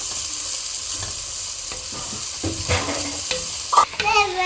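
Tomatoes frying in a pot for chicken biryani made with Ponni rice, a continuous sizzle with stirring scrapes and a sharper clatter near the end, alone without talk.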